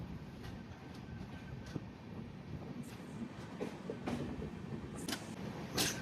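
The Madgaon Express rolls along the Konkan Railway in monsoon, heard from inside as a quiet, steady rumble with scattered rattles and clanks from the carriage.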